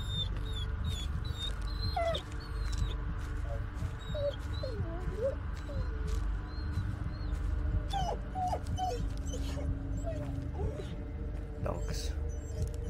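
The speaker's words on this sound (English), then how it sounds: "Dogs." A dog whimpers and whines in short, high, wavering yelps inside the Blair Witch video game, repeating over a steady low rumble of ambient game noise.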